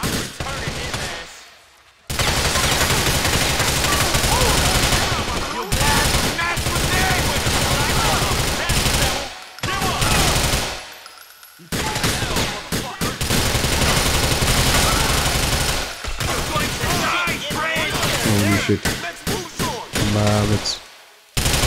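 Loud, dense gunfire from a GTA IV shootout, with long sustained volleys of rapid shots broken by a few short gaps, while someone talks briefly over it.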